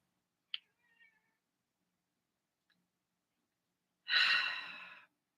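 A cat's single drawn-out meow, close and clear, rises after several seconds of near silence broken only by a faint click.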